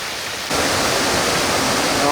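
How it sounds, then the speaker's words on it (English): Water rushing down a hiking path near Ba Be Lake in Vietnam that has turned into a stream at the end of the rainy season, a steady loud broadband roar that swells suddenly and holds without pause, with no voices over it. "Yeah, as you can see, this pathway has become a stream."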